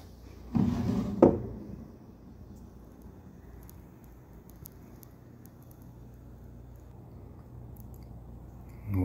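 A hardwood yellow cabinet with a single drawer gives two quick wooden knocks as the drawer is opened and shut, close and fairly clear, followed by a quiet room at an auction.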